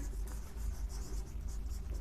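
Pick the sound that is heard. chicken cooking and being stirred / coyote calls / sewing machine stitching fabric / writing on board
writing on board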